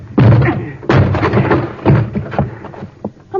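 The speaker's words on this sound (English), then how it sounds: "I'll have to break this door down, Margo." A door being forced open in an old-time radio drama, The Shadow: a string of loud, heavy thuds and crashes, three or four big impacts with splintering rattle between them, close and alone.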